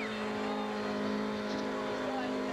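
A car at a 1998 Rebels Club burnout event revs hard, holding a loud sustained high engine note with a commentator talking over it.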